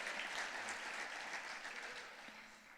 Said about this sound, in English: let's give them a special round of applause